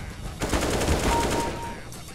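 Rapid automatic gunfire from a shooter video game, a dense burst of shots running almost continuously for about two seconds, loud and close.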